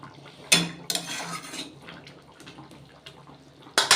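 A spoon clatters and scrapes against a pot of egg curry as it is stirred after garam masala is added: a few sharp clanks early on, then quieter scraping, then another loud clank at the end, with no talking.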